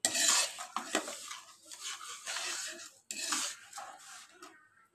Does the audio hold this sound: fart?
no